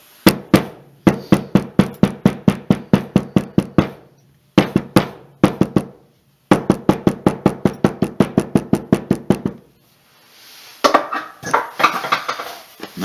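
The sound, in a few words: cobbler's hammer striking glued leather card holder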